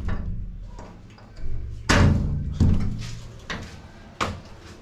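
A door being opened onto a rooftop of a house in Rawalpindi, heard as a few sharp knocks and clacks of latch and frame with short pauses between them, close and fairly loud.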